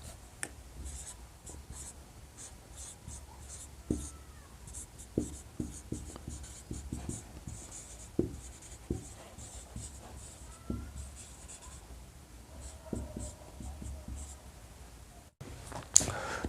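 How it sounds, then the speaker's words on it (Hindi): Chalk or marker taps and scratches across a board while a definition is written, a quiet irregular series of short strokes and clicks with brief pauses between words. "मैं यहां पर दृष्ट रेखा की डिफिनेशन लिख दे रहा हूं।"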